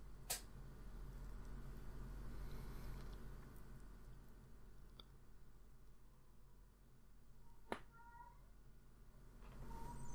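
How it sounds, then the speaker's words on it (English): Indoor cats give a few faint meows in the background: brief calls near the start, around the middle and toward the end, over a low, steady room hum. "If you can hear cats in the background, it's because they haven't been let outside"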